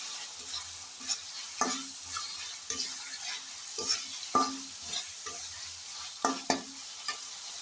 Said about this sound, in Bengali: চিংড়ি মাছগুলো দিয়ে আমি আরেকটু এটাকে কষিয়ে রান্না করে নেব